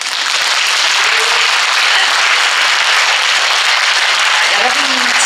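Concert audience at a classical music event celebrating a composer's 70th anniversary gives loud, dense sustained applause, many hands clapping continuously and close, with faint voices underneath.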